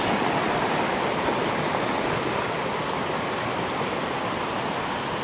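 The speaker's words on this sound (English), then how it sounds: "with this water making noise and the trees here" Steady roaring rush of an Alaskan stream, loud and continuous broadband water noise with no pauses or other sounds.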